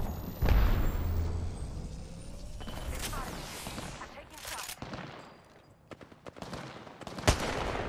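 Scattered gunfire in an Apex Legends match: a heavy shot, then bursts of rapid fire and sharp single cracks, varying in loudness, with some speech around them.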